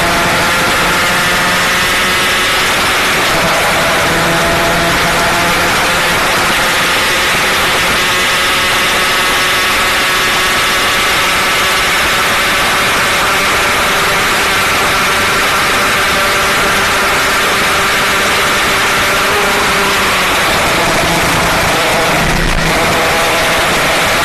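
A Yamaha R15 motorcycle engine runs hard at top speed, a continuous loud, buzzing high-revving drone with wind noise throughout, steady for most of the run with a slight dip near the end.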